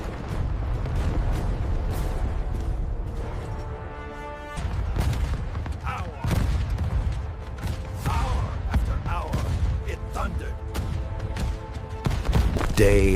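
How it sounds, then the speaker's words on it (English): Deep, rumbling cannon booms roll out one after another over a dense, heavy low-end roar, with scattered sharper cracks in the din. "Yet the cannon never ceased."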